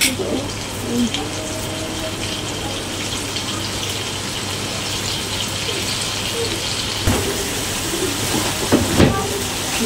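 Cooking oil poured into a hot, dry pan in a home kitchen, giving a steady broad hiss and sizzle that runs throughout, with a low hum beneath and a couple of brief louder crackles near the end.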